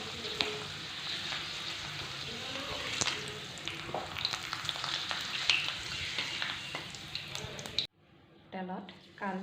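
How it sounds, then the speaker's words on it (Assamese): Papad frying in hot oil, a dense crackling sizzle with sharp pops, cooking noise carrying on for several seconds before dropping away as a voice speaks. "তেলটো গৰম হ'লত মই তাত প্ৰথমে পাপৰখিনি ভাজি লওঁ।"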